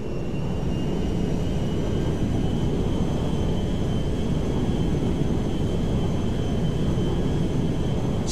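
Meriwether jet landing in Grand Theft Auto V at Mackenzie Field, a steady loud roar of engine and rushing wind that holds unbroken throughout, with no voices over it.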